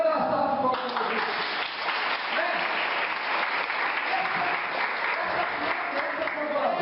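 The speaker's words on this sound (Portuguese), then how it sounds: "Então vou dar uma salva de palmas para Jesus." A church congregation gives a steady, dense round of applause during a worship service, holding at an even level from start to finish.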